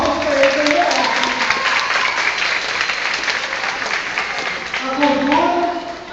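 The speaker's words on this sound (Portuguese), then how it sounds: "Palmas para ele também." Loud, sustained applause from an audience at a lecture on Indigenous cultural influence, many hands clapping densely throughout, with faint voices showing through at the start and end.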